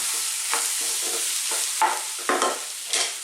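A spoon stirs and mixes carrot coconut curry with cumin in a pan, sounding as a steady low sizzle with several scraping strokes that land in an irregular rhythm, close and alone.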